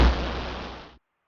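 A large explosion in Old School RuneScape's Colosseum arena plays as one loud, close boom with a rumbling tail, lasting about a second before it cuts off abruptly to silence.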